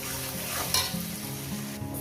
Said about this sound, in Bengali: আমি পেঁয়াজটাকে সুন্দর করে ভেজে নিলাম